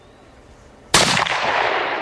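A single loud, sharp gunshot from a special forces sniper rifle cracks close by after a quiet start, followed by a rumbling echo that lingers and slowly fades.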